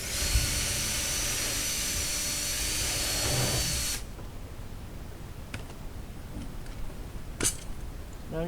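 Power drill with a 13mm socket driving lag bolts through a gate hinge, a steady loud whirring run for about four seconds that stops abruptly, followed by faint clicks and handling noises.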